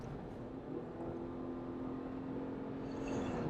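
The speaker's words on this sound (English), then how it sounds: "you do get that engine drone coming into the cabin" Ford Kuga PHEV plug-in hybrid engine with CVT gearbox drones steadily under hard acceleration, heard from inside the cabin as a continuous low hum with a faint rising tone, no talking.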